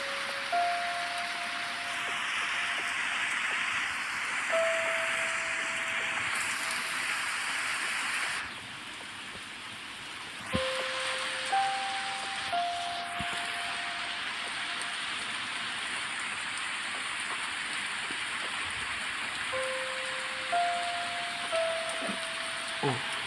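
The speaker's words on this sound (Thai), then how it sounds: "ในเกมนี้ฝนตกเสียงแบบสบายมากเลยนะครับ" Steady rain hisses down in the Roblox fishing game Fisch, a continuous soft wash of falling drops that runs the whole time, with brief tonal chimes and a short break partway through.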